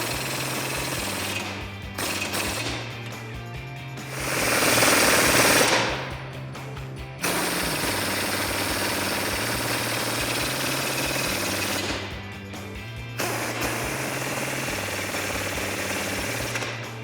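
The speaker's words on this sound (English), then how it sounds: "now we can go ahead and finish tightening up all our hardware" Suspension hardware on a Jeep Wrangler JL Rubicon with a Rubicon Express 2.5-inch lift is tightened with a power tool. Loud, sustained rattling bursts repeat across the stretch, stopping briefly several times before starting up again.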